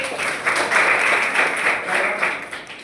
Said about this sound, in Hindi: वेरी गुड, ताली बजाओ इसके लिए।